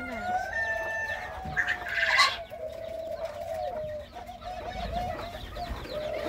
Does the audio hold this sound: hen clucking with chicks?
yes